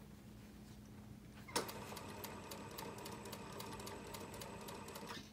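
A sewing machine stitches a seam on a knife-edge bolster, starting abruptly and then running in a fast, even mechanical rattle with regular needle clicks, close and alone.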